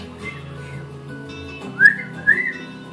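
Two short rising whistles near the end, shrill and close, over a low steady hum.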